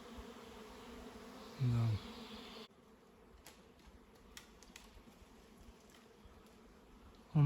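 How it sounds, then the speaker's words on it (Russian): Bee swarm that flew out of a hive and settled near the top of a tall spruce, a faint distant buzzing hum in the open air, with a brief spoken word. "Рой вылетел из этого улья и привился почти на самую макушку елки."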